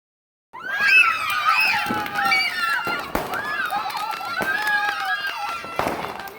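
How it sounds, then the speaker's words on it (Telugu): Diwali fireworks and firecrackers burst at a temple where crowds of devotees celebrate, with sharp bangs and crackles scattered over a constant roar of crowd noise and shouting. "తల్లి ఆలయం వద్ద భారీ స్థాయిలో భక్తులు సామూహికంగా బాణసంచా పేల్చారు"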